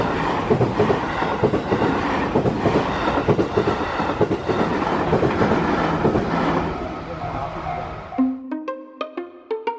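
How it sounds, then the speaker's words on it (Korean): A train rumbles past near a Kyoto sightseeing area, a loud continuous clatter of rail cars filling the first eight seconds before cutting off abruptly, followed by a few sharp, ringing tones in the quiet. "기차 지나가나 보다."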